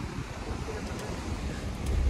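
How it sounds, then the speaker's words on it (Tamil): Fast-flowing river of melting snowmelt water rushing steadily, a dense broadband roar mixed with wind buffeting the microphone, continuous and close without pauses. "பனி உருகி ஊற்றி ஓடுது பாருங்க, எப்படி தண்ணி எவ்வளோ ஓடுது பாருங்க"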